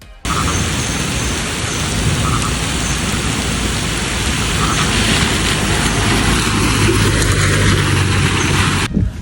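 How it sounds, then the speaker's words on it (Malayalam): Heavy rain pours down in a dense, unbroken hiss, loud and close, lasting throughout with no talking. "ഇപ്പോൾ നല്ല മഴ കേട്ടോ പുറത്ത് അടിപൊളി മഴയാണ്"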